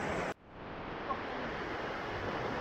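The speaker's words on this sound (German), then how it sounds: "Neben uns tobt der Bach." A raging stream in flood at Christmastime in Lennestadt, a continuous dense rushing roar of water, steady and near, after a brief burst of louder noise at the start.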